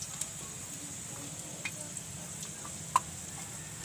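Garlic for kangkong with sardines and bihon sizzles faintly in a pan, a soft steady hiss broken by a few small ticks and one sharper click.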